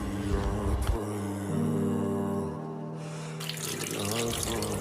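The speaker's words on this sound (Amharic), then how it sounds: "ውሃውን አታባክ ነው። ቀስ እያልክ ታጠብ።" Tap water runs steadily into a sink during washing, a continuous hiss and splash at close range over a low tonal hum, with a brief pause before the flow resumes.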